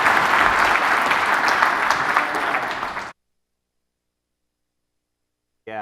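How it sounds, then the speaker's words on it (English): Applause from an event audience greets the next speaker, a thick steady clapping that fills about three seconds and then cuts off abruptly to silence before a brief sound at the very end. "give a warm round of applause to our next speaker"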